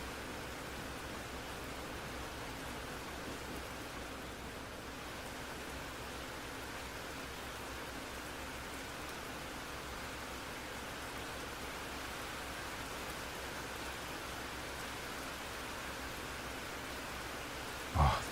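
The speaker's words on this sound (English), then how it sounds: "The sound of the rain is so nice." Steady rainfall in the train-driving game Derail Valley, a soft, even hiss of falling rain that continues unbroken and fairly quiet, with a brief bump right at the end.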